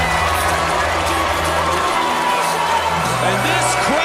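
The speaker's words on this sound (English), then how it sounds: "The chant of the USA ringing through." Crowd at a women's professional wrestling event chanting together in a steady, loud rhythmic roar that fills the arena, with a commentator's voice running over it.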